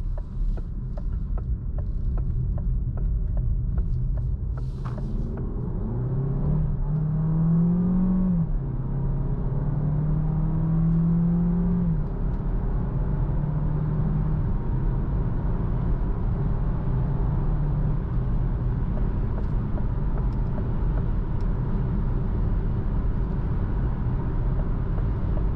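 A DS 4 1.6 car driving onto a highway, its engine drone rising in pitch as it accelerates, then settling into a steady cabin hum and road rumble over a long stretch, no voices.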